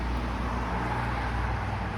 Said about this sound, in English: You hear all these blasting cars